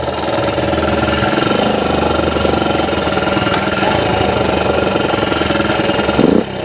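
1964 Honda CT90 motorcycle engine running while being ridden, a loud, steady, close-up buzzing drone with a rough knocking texture and a brief surge near the end.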